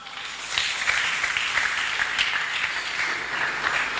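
A church congregation applauding steadily together during a French-language sermon on receiving the Holy Spirit, a dense even wash of clapping that holds at a constant level throughout.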